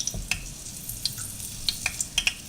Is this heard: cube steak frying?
yes